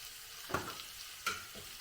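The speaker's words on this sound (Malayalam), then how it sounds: "വേവിച്ച് വെച്ചേക്കുന്ന കടലയാണ് അതിട്ട് നമുക്കൊന്ന് ഇളക്കി കൊടുക്കാം" Cooked chickpeas stirred in a hot pan give a soft, continuous sizzle, with two distinct scraping strokes of the spoon standing out against it.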